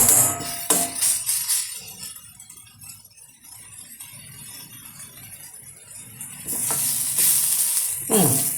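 Vegetable masala sautéing in a pan for a veg cheese roll, a soft steady sizzle with stirring, spoon scrapes and clinks of metal at the start and end, close by and alone.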